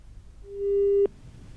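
A failed phone connection during a live news broadcast ends in a single clear busy-signal tone lasting about half a second, with a sharp click as it cuts off. The tone stands alone over faint background noise.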